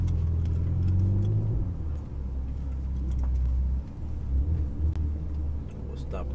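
A Ferrari 488 GTB on a track at Exotics Racing in Los Angeles gives a deep, steady engine rumble from inside the cabin, easing and swelling with speed, while people talk over it.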